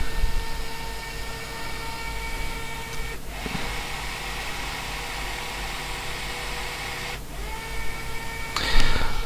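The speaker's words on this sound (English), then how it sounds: "Now the carriage moves." A fischertechnik model carriage driven by a BeagleBoard Classic, a steady whirring motor hum running throughout, close and continuous, with a brief click near the end.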